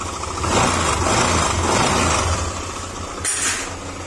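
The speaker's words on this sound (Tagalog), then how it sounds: "Pagka ganyan yung tunog niyan, kalampag yan mga sir." A Honda ADV160 or Click125 scooter engine revving with a rough, rattling crankshaft knock under the exhaust note, loud and close, rising and falling over a few seconds.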